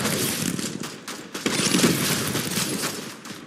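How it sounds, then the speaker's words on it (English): Rapid gunfire from a multiplayer shooter game, dense and continuous bursts of shots at close range throughout, with no talking over it. "someone is shooting at me"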